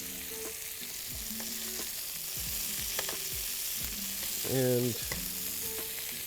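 A tenderloin steak sears in a hot pan over high heat, giving a steady close sizzle with a few louder bursts and light scraping sounds.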